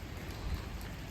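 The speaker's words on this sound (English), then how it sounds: "Hey, it looks like the rain might be stopping. I'll keep the umbrella up just for a little bit more" Rain patters steadily onto an umbrella held up along the Herengracht canal in Amsterdam, a close, even hiss of drops with no voices.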